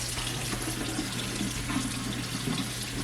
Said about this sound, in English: There's nice hot water.